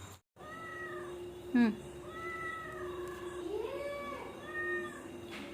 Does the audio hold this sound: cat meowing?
yes